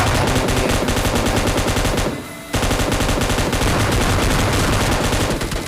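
Dense PUBG Lite gunfire during an S12K shotgun rush, with rapid continuous bursts from automatic weapons that stop briefly near the middle and then resume at full loudness.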